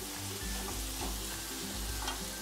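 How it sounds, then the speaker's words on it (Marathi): Chopped tomato masala frying in a pan, a steady loud sizzle with periodic stirring scrapes and no voices. "चांगला मसाला असा भाजून घ्यायचा पूर्ण।"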